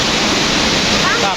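Tad Siang Lue waterfall in Laos roars as a loud, steady wash of falling water, close and continuous, with a faint voice briefly underneath.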